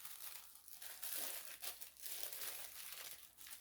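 Gift paper is crinkled and handled up close in short, uneven bursts of crackling, quiet overall with no talking.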